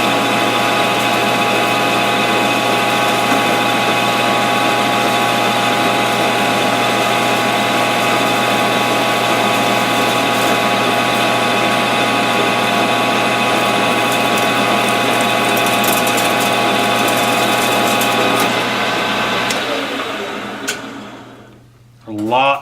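A Bridgeport milling machine with a power feed runs at higher speed, a loud steady mechanical whine and hum with a ratcheting gear undertone that winds down and stops near the end.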